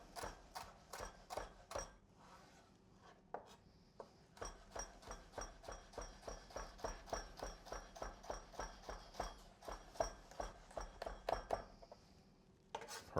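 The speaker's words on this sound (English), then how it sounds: "We're gonna run our knife through here." Knife chopping jalapeno on a cutting board, a fast, steady run of sharp close taps that pauses briefly and then carries on in an even rhythm.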